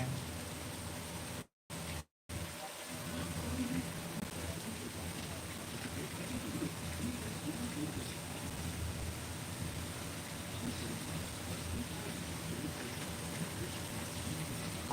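Steady rain hissing down without pause, with muffled voices faintly underneath.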